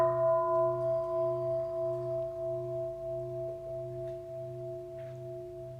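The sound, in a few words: mindfulness bell struck during dharma talk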